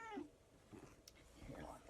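A sixteen-year-old cat meows briefly at the start, close to the microphone, followed by rustling and low background noise; no clear talking.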